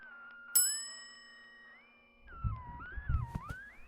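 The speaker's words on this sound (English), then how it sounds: "It looks like there's a bell on the desk." A single desk bell in the horror game Malevolent is struck once with a sharp, bright ding that rings out and fades over a low, eerie musical drone. Deep rumbling thuds and creaks follow later.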